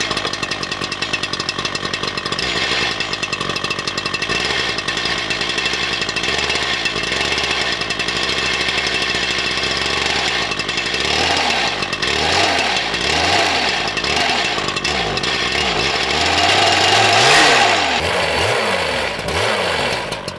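A Geotrencher mini trencher's small gas engine runs loud and close, a raspy chainsaw-like drone that holds steady, then revs and bogs in uneven surges during the second half.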